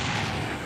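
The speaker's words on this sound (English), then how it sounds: "let's go ahead and use Cannon Fire" A Cannon Fire attack in the game Dissidia Final Fantasy Opera Omnia: a single short, loud booming blast that fills the brief moment.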